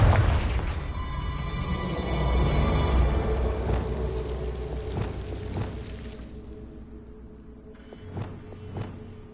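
A Confringo fire spell from Hogwarts Legacy bursts with a deep rumbling boom that decays slowly into a crackling tail, followed by a couple of fainter impact thuds, no talking.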